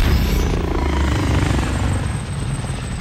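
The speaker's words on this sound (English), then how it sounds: "Enemy called in a deposit chopper." A helicopter roars overhead in Call of Duty: Modern Warfare Plunder mode, a loud, steady rotor drone with a low throbbing thump that holds throughout and eases slightly toward the end.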